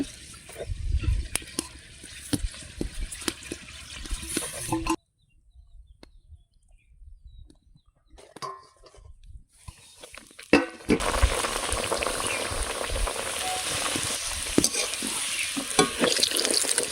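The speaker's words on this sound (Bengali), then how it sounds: "কচুরি নিয়ে আসো, এবার ভাজবো" Fish-stuffed kachori fry in hot oil with a bubbling sizzle and stirring, dropping to near silence midway before a louder, steady sizzle returns; faint birdsong sits in the background.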